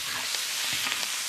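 Fatty pork pieces stir-fried in a wok with oil, scallion, ginger, garlic, dried chillies, Sichuan peppercorns and spices, giving a steady close sizzle with brief scraping stir strokes throughout.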